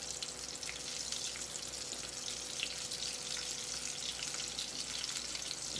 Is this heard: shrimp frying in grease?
yes